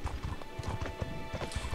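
Donkey hooves walking in the video game Mortal Online: a steady, even clip-clop of hoofbeats throughout, set against a busy ambient backdrop.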